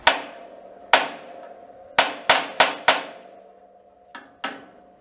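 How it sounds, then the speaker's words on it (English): A hammer whacks metal on the end of a vise: eight sharp ringing strikes, several in quick succession and two fainter near the end, each decaying with a metallic ring, close and alone. "Take a hammer and just kind of give her a good whack on a sharp edge."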